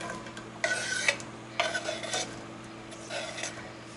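Onions and peppers going into a pan with a little butter, a metal utensil scraping and clinking against the pan in three separate bursts over a low steady hum, with no talk.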